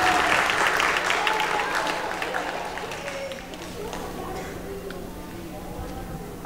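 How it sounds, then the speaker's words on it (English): An audience applauds student musicians at a school winter concert with dense clapping that fades over several seconds, while a voice talks over it. "Let's give our student musicians one last round of applause"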